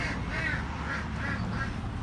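Ducks quack repeatedly near a rural home garden, a run of about five nasal calls spaced evenly, moderately loud over a steady background hum.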